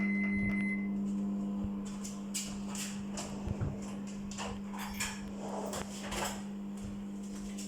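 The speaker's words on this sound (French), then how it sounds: "Je vais mettre 2 minutes. 2 minutes au micro-ondes." Kitchen microwave oven humming steadily as it runs for two minutes to melt butter for Martinique butter bread, while dishes and utensils clink and clatter nearby.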